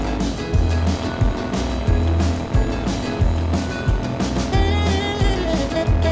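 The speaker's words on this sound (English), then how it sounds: "Their engines purring in unison, David and Mark embarked on the final leg of" Loud motorcycle engines, including a custom nickel-plated Triumph Scrambler, run steadily with a rhythmic low throb and revving surges, close and continuous.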